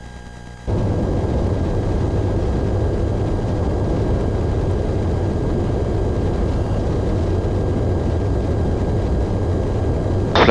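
A light sport aircraft's engine roars at full takeoff power, a loud steady drone from a near cockpit position that starts abruptly and holds constant throughout.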